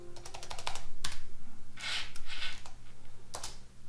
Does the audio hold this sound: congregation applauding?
no